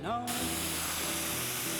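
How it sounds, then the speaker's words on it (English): A short, close, hard hiss of brake cleaner sprayed from an aerosol can into a bicycle shifter through the cable port opening, starting abruptly and running steadily to the end. "With the cable port screw removed, we will use this opening to blast brake cleaner into"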